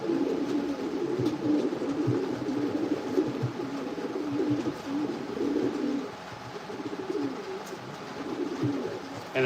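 A racing pigeon coos steadily in a breeder loft on a rainy day, low rolling coos repeating close by with a soft continuous background.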